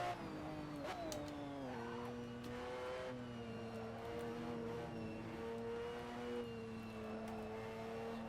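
A race car engine in the Assetto Corsa driving game revs and holds a steady, whining drone, shifting pitch through gear changes as it accelerates, with tones sliding down and climbing again, heard alone without talk.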